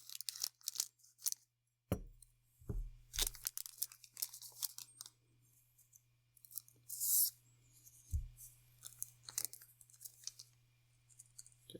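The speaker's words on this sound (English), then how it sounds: "I'm going to use scissors, because otherwise the crinkling will be way too loud." Scissors snip open a Magic: The Gathering booster pack wrapper, with sharp cuts and soft crinkling of the foil plastic, close and fairly quiet, broken by pauses.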